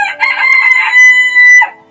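A rooster crows once nearby, loud and clear, its call rising and holding before breaking off.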